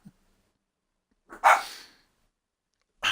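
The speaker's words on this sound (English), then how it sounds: "I love when a car goes by and my fucking dogs bark at it." A dog gives one loud, close bark followed by a fading tail, with a short sharp onset of another bark right at the end, set off by a passing car.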